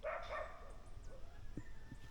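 Small dogs bark on a backyard farm in Jamaica, a few short yips and barks heard faintly at a distance over outdoor ambience.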